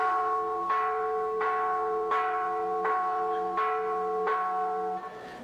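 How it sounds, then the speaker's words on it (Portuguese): A church bell tolls at a steady, even pace, about six strikes roughly 0.7 seconds apart, each leaving a long ringing overtone that carries into the next. It is close and loud with no voices. "Este será o último sino que eu vou instalar."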